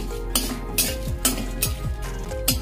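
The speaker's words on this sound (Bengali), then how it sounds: "প্রথমে 5টা শুকনো লঙ্কা দিয়ে একটু নেড়ে নেব।" Five dried red chillies stir-fried in a dry pan for pickle spices, with a spoon scraping and clinking against the pan about twice a second in a steady rhythm over a low sizzle, close up and alone.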